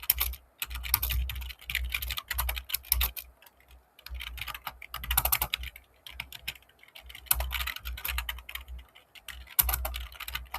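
Fast typing on a computer keyboard while code is written, with bursts of crisp clicking keystrokes separated by short pauses, close and steady, with no talking.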